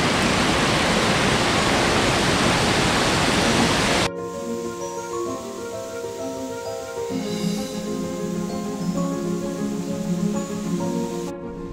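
Waterfall at a natural pool in Tamasopo, Mexico: a loud, steady rushing roar for about four seconds that cuts off abruptly as music takes over.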